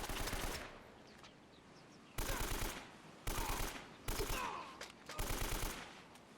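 Enemy machine-gun fire in Uncharted: Drake's Fortune comes in loud automatic bursts, four or five short volleys separated by brief pauses, with faint voices in between.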